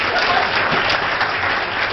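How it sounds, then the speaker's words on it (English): Steady, full applause from an audience at a memorial breakfast, sustained and fairly loud throughout with no talking over it. "so give yourselves a round of applause"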